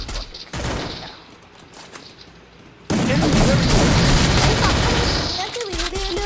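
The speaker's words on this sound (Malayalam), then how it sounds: "അയ്യോ ബോംബ്" Gunfire and a bomb blast in the mobile battle game Free Fire, ranked Clash Squad: quieter crackling shots at first, then a sudden loud burst of dense, continuous firing and booming from about three seconds on, with a voice shouting over it.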